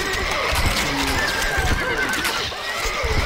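A horse neighs loudly in Stronghold Crusader, a close, continuous whinnying cry over dense battle noise, with hoof sounds mixed in.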